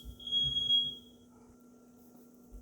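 A smoke detector chirps once, a faint high-pitched electronic beep lasting under a second against quiet room tone.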